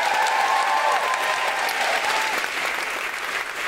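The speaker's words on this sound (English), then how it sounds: "Can I get you to give a huge, huge round of applause for everyone here at the Malthouse" A comedy audience at the Malthouse breaks into a big round of applause, loud dense clapping that holds steady and eases slightly toward the end, with a faint tonal ring beneath it.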